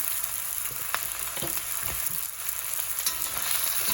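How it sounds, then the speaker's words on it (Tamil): Chilli spice powder frying in oil for a Jaffna-style mutton curry, a close, continuous sizzle with occasional stirring scrapes and pops, steady and loud throughout with no voices. "அது அந்த எண்ணெயில் சேர்ந்து கொஞ்சம் வதக்கணும்"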